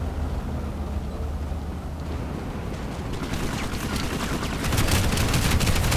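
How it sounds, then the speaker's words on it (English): Gunfire in the online shooter Planetside 2 crackles as a dense, continuous barrage of shots that grows louder and busier toward the end, with no talk over it. "Gunfire everywhere."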